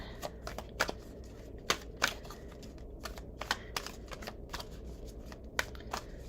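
Tarot cards are shuffled by hand before one more card is drawn, a close series of crisp riffling snaps and flicks in irregular bursts against a quiet room.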